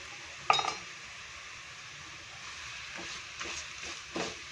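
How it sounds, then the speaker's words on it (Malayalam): Chili, Kashmiri chili, turmeric and coriander powders are stirred and sautéed in a pan: one sharp clink of a spoon on metal, then a low steady sizzle with a few soft scraping strokes, close up and without speech. "ഒന്ന് നന്നായിട്ട് വഴറ്റിയെടുക്കാം"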